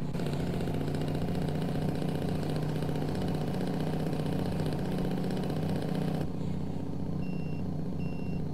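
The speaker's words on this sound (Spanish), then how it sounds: "¡Freno motor!" Kenworth T908 truck hauling a double fuel tanker trailer runs loud and steady with a deep low rumble, then drops abruptly to a quieter idle near the end, with faint tonal beeps.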